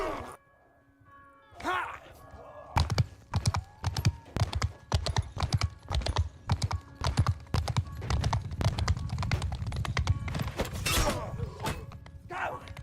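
Horse hooves clip-clop in a competitive strategy video game battle with horse archers and infantry, a loud, rapid, uneven run of hard clattering hits building into a dense, continuous stream.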